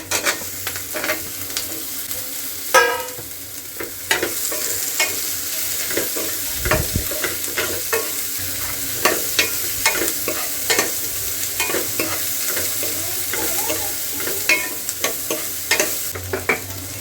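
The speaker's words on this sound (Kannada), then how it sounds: "ಇವಾಗ ಈರುಳ್ಳಿ ಚೆನ್ನಾಗಿ ಫ್ರೈ ಆಗಿದೆ." Onion and capsicum fry in a pan as a spoon stirs them, with a steady sizzle and repeated scraping, clinking strokes close by throughout, and no talk.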